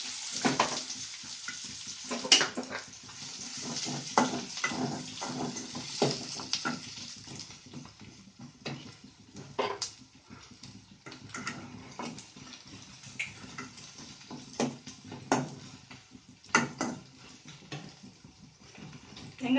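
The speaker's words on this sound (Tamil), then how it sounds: "வெங்காயத்தை போட்டு வதக்கிக்கிடுவோம்." Onions sautéing in hot oil in a pan for a Tamil pepper chicken fry, a steady crackling sizzle running throughout with frequent sharp clicks and scrapes from stirring, close and moderately loud with no talking.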